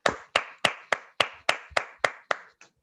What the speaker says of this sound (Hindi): जोरदार ताली कंपनी के लिए